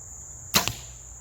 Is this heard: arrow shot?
yes